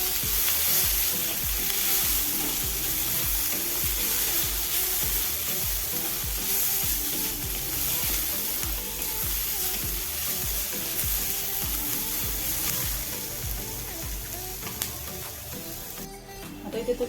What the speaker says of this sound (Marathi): तरी कांदा चांगला परतून घेऊया आणि मग खोबरं चांगलं परतून घेऊया आपण.